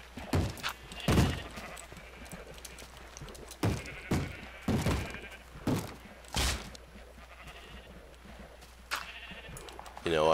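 Repeated sheep bleats from Minecraft, a string of short cries spread across the stretch with a few soft thumps of game action mixed in.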